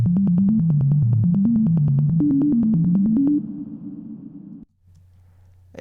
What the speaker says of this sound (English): It's just a sine wave with reverb.